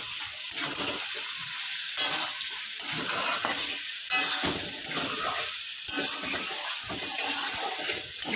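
Potatoes tumble into chicken curry sizzling in a pan, making a busy, uneven sizzle broken by repeated scraping and stirring strokes and occasional knocks, close and fairly loud with no talking.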